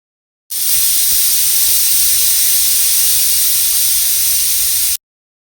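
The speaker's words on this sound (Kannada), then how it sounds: "ಕುಕ್ಕರ್ ಲಿಡ್ನ ಕ್ಲೋಸ್ ಮಾಡಿ 2 ವಿಷಲ್ ಕೂಗಿಸ್ಕೊಬೇಕಾಗುತ್ತೆ" A pressure cooker holding mutton biryani vents steam through its whistle, a loud steady hiss that starts abruptly and holds at one level for about four and a half seconds before cutting off.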